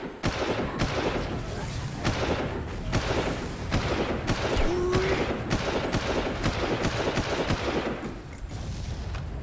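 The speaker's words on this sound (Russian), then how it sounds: "А кто стреляет?" Gunfire in the 2004 shooter Far Cry, dam mission: rapid repeated shots and bursts crackle steadily throughout, a dense fusillade of mid-distance gunfire with a few heavier thuds.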